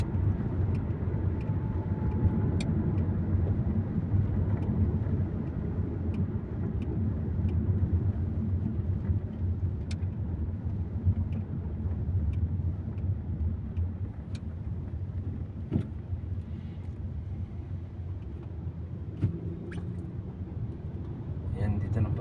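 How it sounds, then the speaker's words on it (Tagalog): Steady, continuous road traffic in front of Ateneo, a low rumbling wash of passing vehicles with occasional louder swells, heard from nearby in the evening rush. "Tuloy-tuloy po yung traffic dito."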